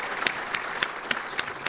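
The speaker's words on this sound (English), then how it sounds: "We ought to give her a round of applause." Applause at an awards lunch, a short burst of clapping from the seated audience with sharp individual claps standing out at a fairly steady pace, moderately loud.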